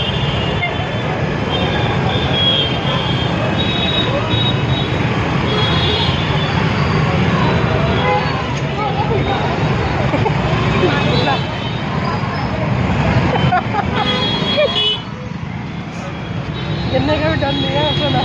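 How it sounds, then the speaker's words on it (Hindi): Dense, crowded city traffic in Jaipur during Diwali, with a constant broad wash of engines, horns and road noise close around, steady and unbroken, with voices mixed in. "ट्रैफिक सबसे ज़्यादा"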